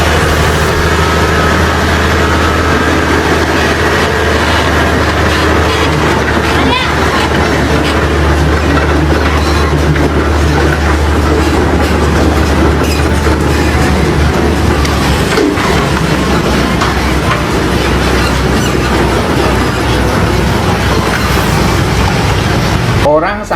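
A trackless ART train runs on rubber bus wheels along a wide road, producing a loud, continuous rumble and rolling drone that holds steady throughout.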